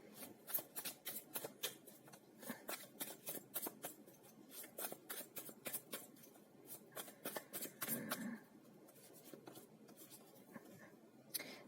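Tarot cards being shuffled and dealt out during a reading, a close, steady run of crisp flicks and papery rubs with no one speaking.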